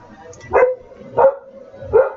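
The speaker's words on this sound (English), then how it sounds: "Dog on the side." A dog barks three times at an even, unhurried pace, each bark sharp and fairly loud, with light background noise between them.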